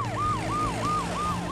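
An ambulance siren in a children's cartoon sounds as a rapid, repeating wail that sweeps up and down about every third of a second, clear and steady, with no voices.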